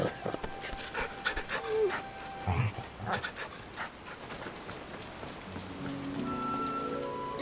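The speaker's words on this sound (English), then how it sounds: "I pet that dog." A dog pants in Final Fantasy XVI, quick rhythmic breaths amid soft rain-like patter and scattered game sounds, moderately close, with no talking.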